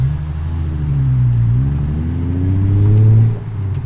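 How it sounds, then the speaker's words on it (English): A Toyota Supra's engine drones and revs from inside the moving car, its pitch rising and falling through gear changes and swelling louder before easing off, with no voices. "I've for sure been in like quicker cars, but that car just sounds cool."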